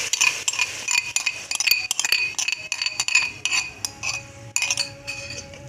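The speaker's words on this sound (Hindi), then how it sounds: "हम ये अब इसी घी में हमने ये मसाला ऐड कर देना है" Whole masala spices stirred into ghee in a pan, with repeated metallic clinks and scrapes of a spoon against the pan at an irregular pace, close and fairly loud, no voices.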